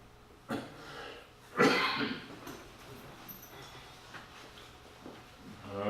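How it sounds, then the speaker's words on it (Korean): Two or three short, sharp coughs from someone close by who has a cold, separated by quiet breathing and small room noises. "감기에 걸려 지금 기침이 나고"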